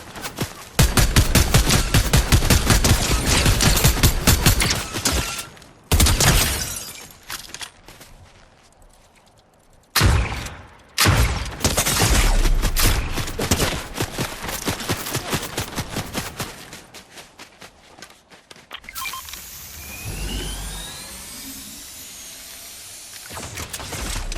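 Rapid gunfire bursts in the Fortnite video game, loud dense volleys of shots broken by brief pauses, ending in a quieter hissing stretch.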